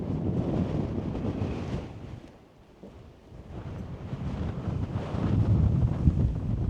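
Strong, cold wind buffets the microphone in a steady, heavy roar that eases briefly, then rises again, at a winter wild camp in Abisko.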